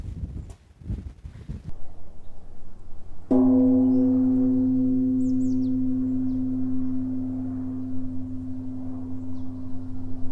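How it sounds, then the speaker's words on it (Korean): A bell is struck once by a riverside amid wind and rustling reeds, a sudden strong clang followed by a long, pure, slowly fading hum that rings on for several seconds, close and alone after earlier rustling noise. "종을 한번 쳐보겠습니다"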